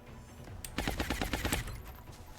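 A ranger machine pistol in XCOM Long War fires one quick burst of about eight evenly spaced shots, fairly close and crisp, following a short metallic click, with no talking.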